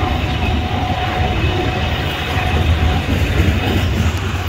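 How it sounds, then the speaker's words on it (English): A freight train rolls past on the tracks near a bridge by the Bow River around Lake Louise, a steady, close rumble of wheels and cars with clickety-clack and faint squeal, continuous and without any voices. "the buddy is just cruising up on me on the train"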